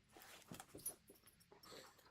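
A dog whimpering and making small soft whines as it comes over for treats, a few brief, faint bursts close by with no talking.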